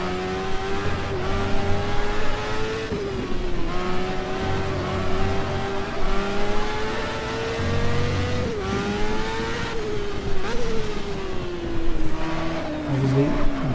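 Porsche Group C race car from the GTR2 racing game, engine revving steadily and accelerating through the gears with a rising, wavering whine, loud and continuous with faint tyre noise underneath.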